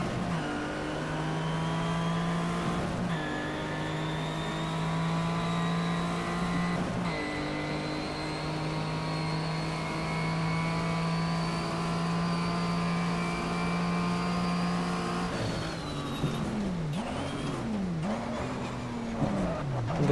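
A race car engine in the GTR2 racing game drives laps at Calder Park in a 1987 WTCC touring car, droning at high revs with gear shifts and sweeping rises and falls as it brakes and accelerates, alone and loud.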